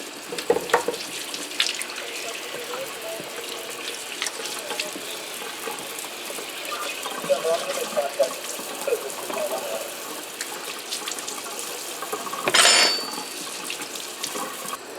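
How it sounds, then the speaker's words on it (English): Tap water runs steadily into a kitchen sink while carrots are rinsed for beef stew, a continuous close splashing hiss with a brief louder gush near the end. "And I'm going to wash my carrots."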